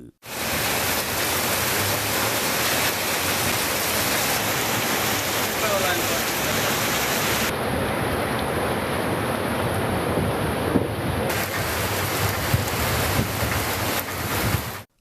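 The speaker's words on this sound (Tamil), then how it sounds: "தக்கலை சுற்றுவட்டார பகுதிகளில் கனமழை கொட்டியது" Heavy rain with wind pours steadily over the Thuckalay area of Tamil Nadu, a dense, loud, unbroken hiss and roar that lasts throughout with no talking.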